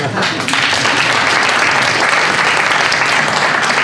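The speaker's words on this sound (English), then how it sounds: "big round of applause for Michael" Keynote audience at a sales leaders' event in New York gives Michael a big round of applause: dense, loud, sustained clapping from a large crowd filling the hall without a break.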